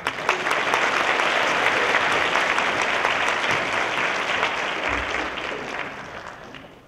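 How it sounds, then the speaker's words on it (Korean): Loud, sustained applause from a university forum audience welcoming a lecturer to the stage, dense clapping filling the room and slowly tapering off over several seconds. "유희성 강사님 나오실 때 여러분들 뜨거운 박수 부탁드리겠습니다."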